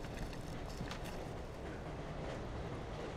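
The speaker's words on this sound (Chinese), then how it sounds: "火车来了！" A train arrives at a station in a Chinese TV drama scene, a steady, loud rumble of rolling rail cars with a faint clatter that continues without a break.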